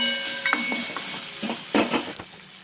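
Curry leaves and green chillies hit hot oil for Gujarati-style kadhi khichdi, giving a close crackling sizzle with a few sharp spitting bursts and light stirring clatter.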